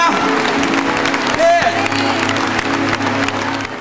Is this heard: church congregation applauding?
yes